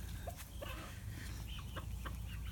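A backyard flock of Silkie and Bantam chickens clucks continuously, with several overlapping soft calls and short squawks at close range against a steady outdoor background.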